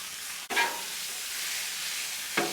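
Pre-cut carne asada meat from a meat market sizzles loudly in hot oil on a Blackstone griddle, with a steady fry hiss and sharper bursts as the pieces hit the surface.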